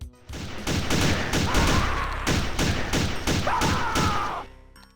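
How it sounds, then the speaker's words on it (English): A punchy new pistol sound effect in a DOOM mod, firing in a fast, steady rhythm of about a dozen loud, booming shots with short gaps, some mixed with a metallic ring. "give it a fresh new sound effect that sounds less wimpy"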